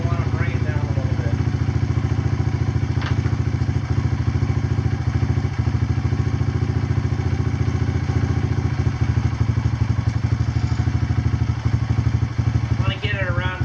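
A Kawasaki KLX140 dirt bike engine idles at about 1700 RPM after a carburetor install, a steady close, rapid low putter with little change, while a voice talks over it at moments.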